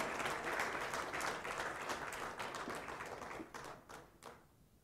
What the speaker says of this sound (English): Let's give a big, a big round of applause